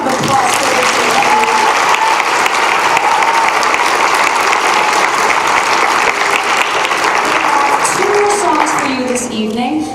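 A school audience at a middle school winter concert applauds its choir in a steady, loud, dense wash of clapping with some crowd noise, fading toward the end.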